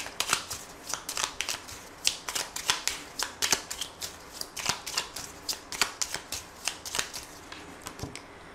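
Cards from a 32-card deck being shuffled and cut for a French fortune-telling reading, a steady run of crisp riffling flutters and snaps repeating close-up for the whole stretch, with no voice over it.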